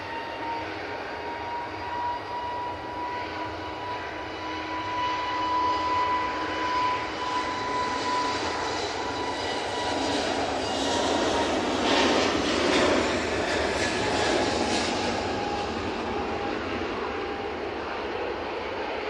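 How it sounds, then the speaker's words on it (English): An easyJet Airbus A320neo departs Manchester for Reykjavik, its jet engines building to a broad, loud roar that peaks and then holds steady, a thin whine running through it and no voices present. "This is off to Reykjavik using the 320neo."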